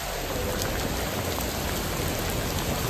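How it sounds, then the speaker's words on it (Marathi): Heavy, steady downpour drenching the surroundings during a monsoon-style storm, a dense continuous hiss of rain close by with no voices, holding evenly loud throughout. "तुफान पाऊस"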